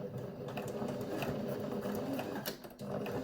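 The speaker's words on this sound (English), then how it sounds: "And here I do a double stitch." A sewing machine double stitching elastic onto a two-layer cotton face mask, a close rapid mechanical chatter of the needle with brief pauses and a short stop near the end.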